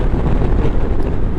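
Wind turbulence buffets the rider on a moving Harley-Davidson Street Glide CVO motorcycle, a loud, continuous rumbling rush with no voices over it.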